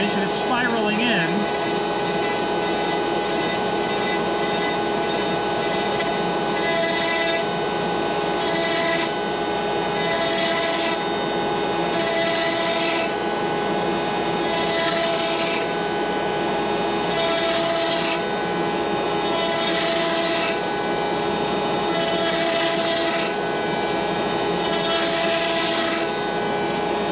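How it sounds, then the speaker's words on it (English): CNC router spiraling inward to cut an 8-inch circular pocket 1/8 inch deep, a steady loud spindle whine and hum with rhythmic swells as the bit circles, continuous throughout. "Now it should start that same 8-inch circle in its second path, cutting in 1/8 of an inch, and it's spiraling in."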